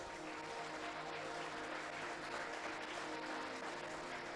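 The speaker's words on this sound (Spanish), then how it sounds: "Dale un aplauso a Cristo." Congregation applauding during a church sermon, a steady dense wash of clapping that fills the whole stretch at moderate level, with no voices on top.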